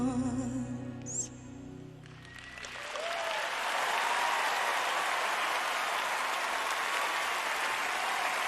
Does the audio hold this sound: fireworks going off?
no